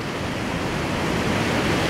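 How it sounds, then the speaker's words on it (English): Whitewater of Cold Creek Rapid on the Desolation–Gray canyon river rushes in a steady, dense roar, loud and close, with no break or voices. "Here's Noah, Cold Creek Rapid,"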